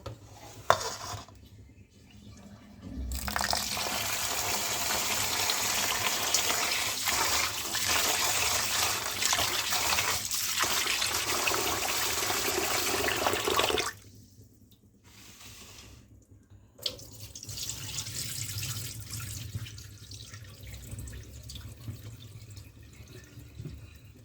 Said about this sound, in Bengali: চালটাকে ভালোভাবে ধুয়ে নেব চালের ভিতরে কুশ তুরা আস্ত ধান আছে এগুলোকে ভালো করে ধুয়ে নেব